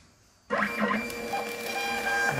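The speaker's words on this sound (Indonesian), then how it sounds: "Kita akan print. Ya. Cetak. Tinggal cetak aja langsung." A printer connected through a 24-meter chain of Aten UE2120 USB 2.0 extender cables starts up after a half-second of quiet, then runs with a steady mechanical whir and rattle, close and fairly loud.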